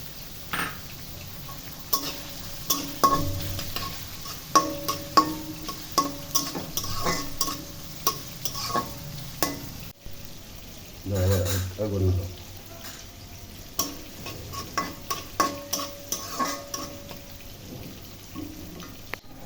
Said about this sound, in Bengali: তারপর তাতে প্রথমে পেঁয়াজ কুচি ঢেলে ২-৩ মিনিট পর কাঁচামরিচ দিয়ে বেশ কয়েক